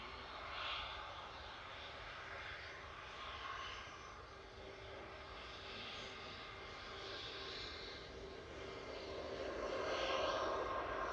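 A Lufthansa jet airliner in classic livery running its engines at Manchester Airport, a broad, steady roar heard from a distance that swells slightly toward the end, with no talk.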